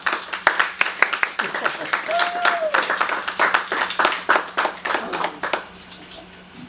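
Audience applause at the end of a magic show, a steady patter of many hands clapping with sharp individual claps throughout, fairly close and lively.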